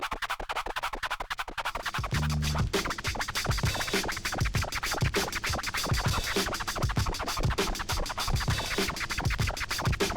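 Rapid DJ flare scratching on a turntable, a record pushed back and forth while the crossfader clicks it in and out, giving dense chopped stuttering bursts that stay loud and close over a beat throughout.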